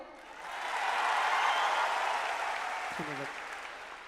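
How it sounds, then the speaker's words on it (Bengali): An audience claps loudly at a live televised music show. The applause swells and holds steady for several seconds, then fades a little as a brief voice cuts in near the end. "তালিটা আর একটু জোরেই হোক।"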